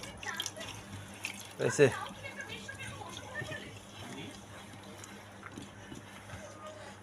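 Water runs from a tap while a plate is rinsed under it, a soft, steady splashing wash with a brief louder splash, mostly under people talking nearby.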